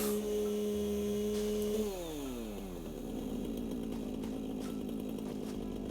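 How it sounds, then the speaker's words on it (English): A chainsaw in the Satisfactory video game revs and cuts continuously, a steady high whine whose pitch drops partway through into a rougher, gritty grinding, loud and alone throughout. "Let's see if I can chainsaw this one."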